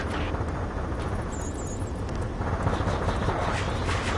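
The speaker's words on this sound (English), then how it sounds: "Gunfire and the roar of jets echoing through the streets" In the Ace Combat 7 video game, a city under martial law fills with the steady, heavy roar of jet engines, with scattered gunfire bursts crackling through a dense, continuous wall of noise.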